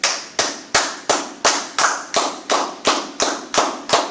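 A church congregation claps in unison, eleven sharp, evenly spaced claps about every 0.35 seconds, loud and close with no talk over them.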